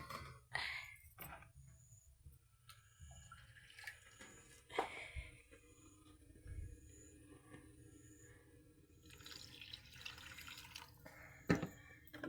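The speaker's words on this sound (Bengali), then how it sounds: "আর একটু জল লাগবে, আমি আর একটু জল দিয়ে দিচ্ছি।" Water poured into a pot of cooking vegetables and dal, with intermittent splashes and drips, close and moderately quiet, with a sigh and brief handling noises.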